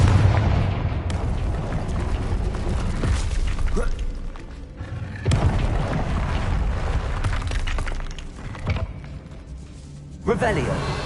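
Repeated Confringo blasting spells in Hogwarts Legacy thunder through combat, loud booms and crashing impacts recurring every few seconds amid dense game noise and voices.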